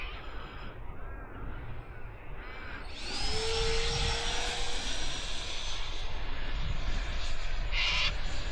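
An H.King L-39 64mm electric RC jet on a 4S battery spools up and flies, its ducted fan rising into a loud steady whine after a quieter start, with crows cawing nearby.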